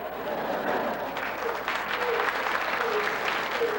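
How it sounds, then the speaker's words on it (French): Audience members at a stand-up comedy show clap their hands in a sustained, fairly loud patter of many hands, steady throughout with faint crowd murmur beneath. "Maintenant, par applaudissement, combien de personnes ne sont pas capables de taper dans les mains?"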